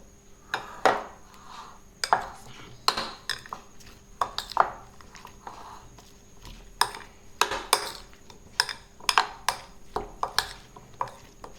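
A spoon stirs onion and capsicum into a thick masala in a metal pan, giving repeated close scrapes and clanks at an uneven rhythm over a quiet background.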